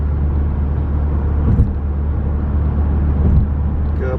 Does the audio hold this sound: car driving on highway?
yes